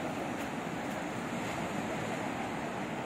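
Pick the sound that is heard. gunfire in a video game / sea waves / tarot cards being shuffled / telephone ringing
sea waves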